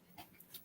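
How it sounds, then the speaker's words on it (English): A dog gives a faint, brief whimper with a soft panting breath, quiet and close, lasting well under a second on an otherwise silent indoor line. "Sorry, that's my dog."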